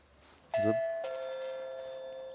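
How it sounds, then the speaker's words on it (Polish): An Annke Whiffle 1080P video doorbell chimes once with a clear two-tone ding-dong, the second tone ringing out and fading slowly over a faint background hiss. "Dzwonek do drzwi."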